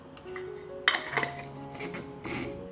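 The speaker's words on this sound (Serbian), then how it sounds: "I tegle zatvaram sa čistim i novim poklopcima." Glass jars filled with water, rims wiped with vinegar, being closed with clean new lids: a few sharp glassy clinks near the start, then softer handling sounds over a steady background hum.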